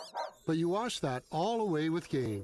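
A dog's barks and yips in a radio advertisement, several loud close barks in an uneven rhythm, with a voice speaking briefly before them.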